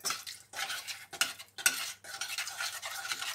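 A spoon stirs a cauliflower gratin mixture seasoned with nutmeg in a pan, making close scraping and clinking strokes in bursts with short pauses between, quiet and without talk.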